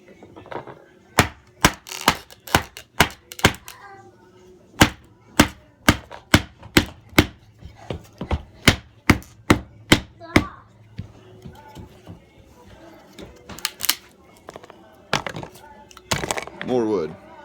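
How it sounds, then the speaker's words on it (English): Repeated sharp knife-batoning strikes splitting a small piece of wood, a rapid run of loud, close cracking thuds in steady rhythm, then scattered hits with some rustling near the end. "that, ladies and gentlemen, is batoning"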